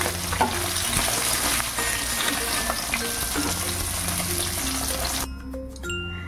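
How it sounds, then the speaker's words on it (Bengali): Pieces of katla fish fry in hot oil with a steady, loud crackling sizzle, which drops off abruptly near the end as the pan quiets. "মাছগুলো ভাজা হয়ে গেছে, এর থেকে বেশি কিন্তু আমি ভাজবো না"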